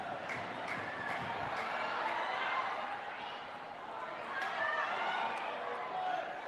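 Steady crowd murmur and cheering fills Rizal Memorial Stadium during a women's football semi-final between the Philippines and Vietnam, a continuous broad roar with no single standout burst.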